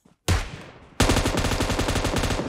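Gunfire in PUBG Mobile: a sharp opening burst is followed after a brief lull by loud, continuous rapid automatic fire that rattles close and steady to the end.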